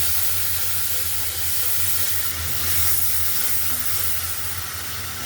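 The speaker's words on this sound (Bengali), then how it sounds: "পেঁয়াজটা একটু ভাজা ভাজা করে নেই" Onion paste fries in hot oil in a pan for an ilish fish curry, making a continuous loud hiss and sizzle that holds steady throughout, close by and without speech.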